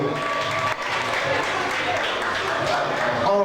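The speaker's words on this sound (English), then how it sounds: "give yourself a round of applause" Sustained audience applause and cheering fill a jazz anniversary show from start to finish, a dense wash of many hands clapping with crowd noise and voices mixed in.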